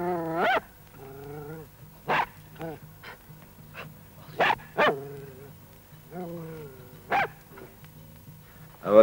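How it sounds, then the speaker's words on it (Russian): A dog barks in short, loud bursts at irregular intervals, with whining, yelping sounds between the barks, close by in an indoor room. "А вот теперь он лает на вас."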